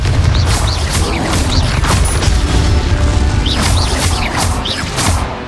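Repeated fiery spell blasts in the Hogwarts Legacy video game, Confringo explosions mixed with other combat spells during a goblin village battle, sounding as dense booms and crashes with whooshing streaks over continuous rumbling action.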